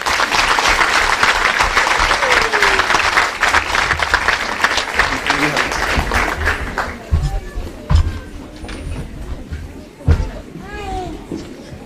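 Audience at an award ceremony for a children's exhibition claps loudly, a dense burst of applause that gradually thins out into scattered claps and bumps, with a voice speaking over the end.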